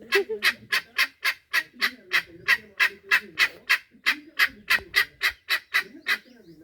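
Guinea fowl call in a rapid, regular series of loud harsh cackles, about three per second, close by and continuing throughout with no talk.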